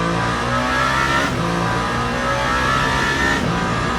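A race car engine in Le Mans Ultimate during a 24 Hours of Le Mans race, holding a loud, steady, throaty drone that swells slightly as the throttle is fed in gently, with no voices over it.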